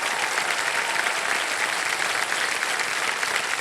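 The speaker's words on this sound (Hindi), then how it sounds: "तालियां बजते रहे पूजा जी के लिए।" Studio audience applauding contestant Pooja on the KBC quiz show stage, dense, loud and sustained clapping from a large crowd, even in level throughout with no voices on top.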